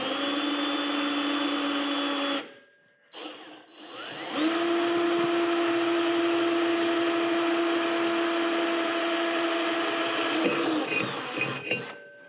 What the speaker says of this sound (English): it's much easier to drill through this than it would have been with just doing it the big size first